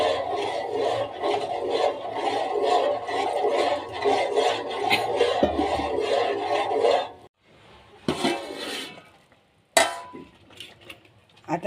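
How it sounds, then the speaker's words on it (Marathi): A spoon scrapes and rasps continuously around a pan as jowar flour batter is stirred, a steady close scraping that stops abruptly, followed by a few clinks and knocks of utensils. "म्हणून आपण मिश्रण जेव्हा टाकतो तेव्हा सारखं हलवत राहायचं."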